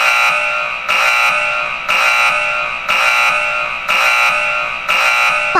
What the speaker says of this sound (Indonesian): itu kan suara alarm CCTV kota Sakura